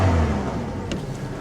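A Chevy Cavalier engine with a blown head gasket runs steadily up close just after a dose of carb cleaner, a dense continuous rumble holding at a fairly even level for the whole stretch.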